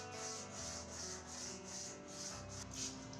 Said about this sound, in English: I'm now sanding away all the sharp edges.